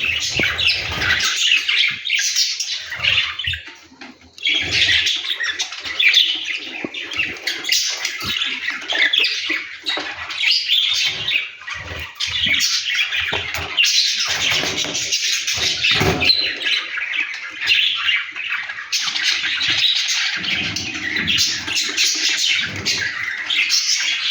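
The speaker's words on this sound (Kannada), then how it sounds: "ಇದು ನಾರ್ಮಲ್ ಬಡ್ಜೀಸೇನೆ ಮಾಮೂಲಿ." Budgerigars squawk and chatter continuously in an aviary, a dense, loud flock of shrill calls with brief dips, no voices.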